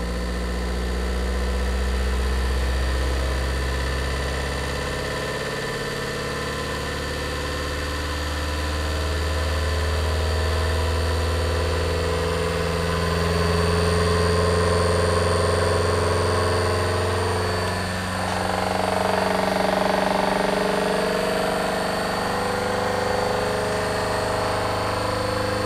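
A Ford Model A engine pulls steadily in third gear, its low, even drone rising only gradually as the car gathers speed over a long stretch, close and continuous with no talking.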